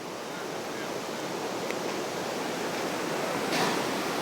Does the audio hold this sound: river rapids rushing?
yes